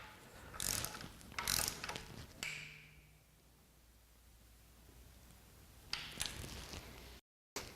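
A ratchet torque wrench clicks in short bursts while tightening Ford Coyote oil pan bolts. Two quick ratcheting runs come close together, a quiet pause follows, then another burst; everything is close and fairly soft.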